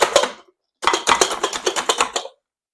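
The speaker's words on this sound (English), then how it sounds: "This little Cuisinart nut chopper is fantastic for chopping any kind of nuts, whether it's walnuts or pecans or almonds" A small Cuisinart nut chopper chops nuts such as walnuts, pecans or almonds: a short burst, a brief gap, then a rapid run of sharp, close rattling chops, loud and with no talk.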